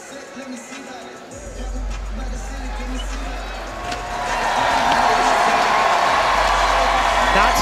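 At a women's skateboard final at SLS Chicago, an arena crowd roars in support of a skater, the noise swelling steadily and growing louder toward the end, with a commentator talking over it.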